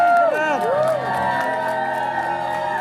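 Crowd at an Indonesian Independence Day celebration cheering and whooping, with a loud, lively roar throughout and scattered shouts and voices over it.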